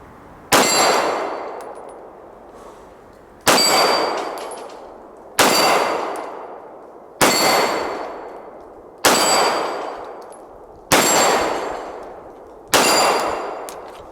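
Seven evenly spaced shots from a Sig Sauer P320 9mm pistol ring off 6-inch steel plates on a rack about 15 yards away. Each is a sharp bang followed by a bright metallic clang that rings and fades, with no talking.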